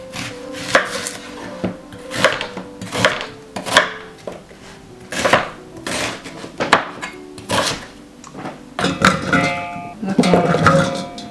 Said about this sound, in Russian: Нарезаем на удобные нам кусочки и в измельчитель.